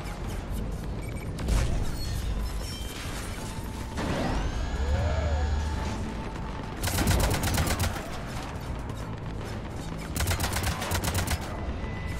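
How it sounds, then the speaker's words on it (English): Cannons firing in a sci-fi video game: loud, rapid volleys of booming bursts in several waves, with mechanical whirring and sweeping electronic tones between them. "Cannons engaged."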